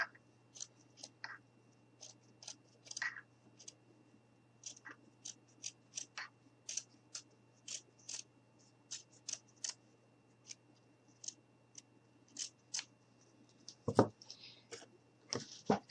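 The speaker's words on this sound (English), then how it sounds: "I'm going to go ahead and cut this in half. Just like this, all the way down." Scissors snip through craft material for gnome shoes in short, quiet, irregular cuts spaced across the stretch, with a low steady hum underneath and one louder handling knock near the end.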